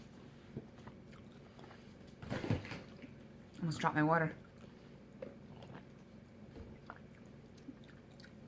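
Chewing a crunchy Taiwanese sesame-and-sugar snack, heard as a couple of short crunching bursts close to the mic, mixed with people talking nearby.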